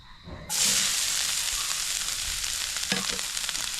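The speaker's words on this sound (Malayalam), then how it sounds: "ഇത് ചൂടായി വരുമ്പോൾ നമുക്ക് ഇതിനകത്തേക്ക് നമ്മളെ ക്യാരറ്റ് ഇട്ട് കൊടുക്കാം" Chopped carrot hits hot coconut oil in a pan, setting off a sudden loud, steady sizzle that hisses on close by, with a faint clink of stirring partway through and no voices.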